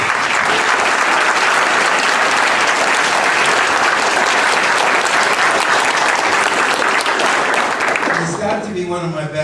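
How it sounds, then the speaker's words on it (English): A crowd at a Republican committee veterans breakfast rally breaks into loud, sustained applause, a thick wash of clapping that holds steady for several seconds before tapering as a voice comes in at the end. "Just a round of applause for yourself"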